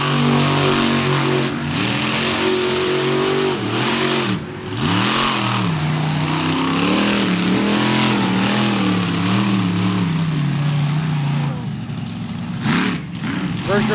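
Monster truck engine revving hard as it whips a donut in beach sand at a Wildwood, New Jersey show, loud rising and falling engine pitch sweeps over about twelve seconds, then cuts into broader noise.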